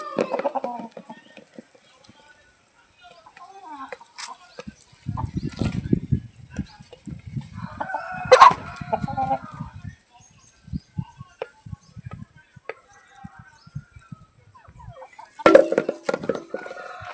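Chickens being raised at a home, with scattered clucks and gobbling calls, several sharp loud squawks standing out, and people talking in between.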